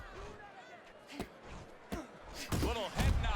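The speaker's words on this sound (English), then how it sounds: "Little head knocking with that right hand" Boxing punches land in Fight Night Champion, several sharp thuds and slaps spaced through the round, growing heavier toward the end, under faint crowd and commentary noise.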